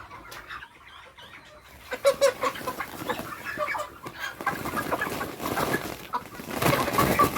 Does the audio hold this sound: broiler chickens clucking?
yes